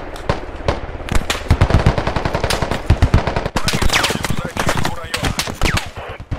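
Machine gun fire in the video game Squad, loud sustained rapid bursts of shots close by, with a brief pause midway before firing resumes, and voices shouting underneath.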